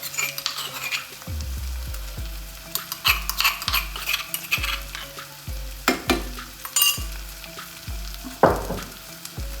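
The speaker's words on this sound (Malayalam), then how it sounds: "ഇനി കളറൊന്നും ചെയ്യേണ്ട, ഇതൊന്ന് പച്ചമണം മാറുന്ന വരെ ഒന്ന് വഴറ്റിയെടുക്കാം." Crushed ginger, garlic and green chilli sauté in a pan, a constant close sizzle broken by repeated metal spoon scrapes and knocks against the pan in an uneven rhythm, with no voices.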